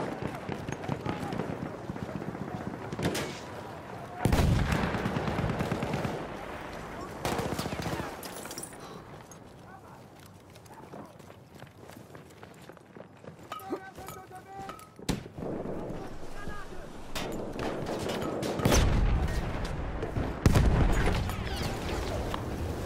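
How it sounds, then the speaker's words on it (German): Grenade explosion and gunfire in the video game Battlefield 1 on the Monte Grappa map: heavy booming blasts and bursts of rapid shots come in loud waves, with quieter stretches between them and voices talking over parts of it. "Granate ist raus, aufpassen!"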